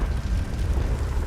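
A Confringo blasting curse explodes in Hogwarts Legacy, a loud, rumbling low-heavy burst that roars steadily and churns like fire for a moment with no talk over it.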